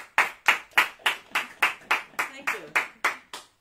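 A small audience gives a steady round of applause for a singer, about a dozen rhythmic, evenly timed claps up close, with a brief spoken word over the clapping.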